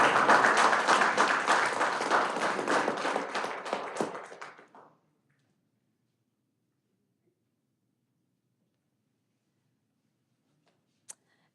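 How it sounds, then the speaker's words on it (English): Group clapping for graduates at a city council meeting, a dense close round of applause lasting about four seconds before fading out into silence, with one sharp isolated tap near the end. "We can give individual claps as well"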